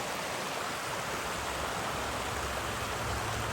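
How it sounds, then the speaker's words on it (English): Constant rushing water of a mountain creek in Alaska, a dense even hiss with no pauses, close by and fairly loud. "That's the creek up there."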